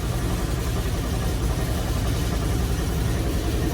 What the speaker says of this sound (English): It's a crate motor, 350, about 400 horsepower